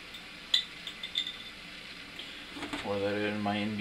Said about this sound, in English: Pour that in my NB200 glass.